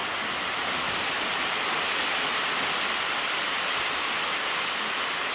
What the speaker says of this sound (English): Get a lot of water coming in on me here